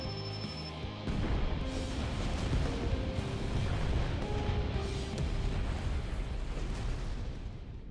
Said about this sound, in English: Then let the fireworks begin.